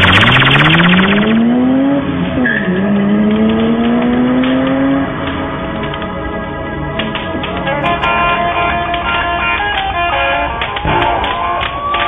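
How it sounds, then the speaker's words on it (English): Car engine idles and revs loudly up close, pitch climbing and dipping through repeated accelerations, with a rough mechanical rattle underneath and no talking. "Engine running."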